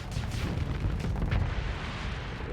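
Sabot cannon rounds fired in a video game, one heavy booming blast that rolls out into a long low rumble.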